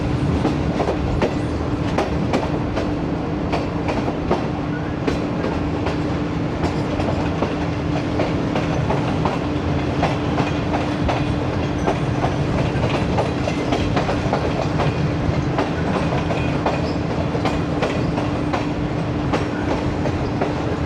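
The Shalimar Express passenger train rolls steadily on rails near Khanpur Junction, a loud, continuous rumble with a low hum and rhythmic clickety-clack of wheels, with no voices.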